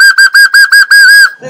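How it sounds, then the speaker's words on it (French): A loud, shrill starting whistle blown in six short bursts followed by a longer sustained blast, close and piercing, at a threshing festival in Saint-Nicolas-du-Tertre. "c'est le coup de sifflet. Le coup de sifflet."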